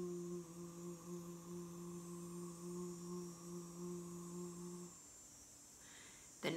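A deep, resonating moo made by a human voice imitating a cow, one long steady hummed tone held for about five seconds before it stops, with no other talk.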